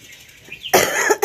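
A person coughs at home on a rainy day, two harsh, close bursts following a quiet lead-in.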